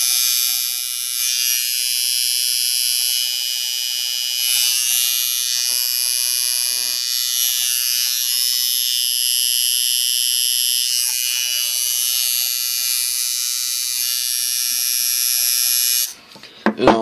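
A cutback long stroke liner tattoo machine runs nonstop, a loud, steady high-pitched electric buzz held close for about sixteen seconds before cutting off abruptly.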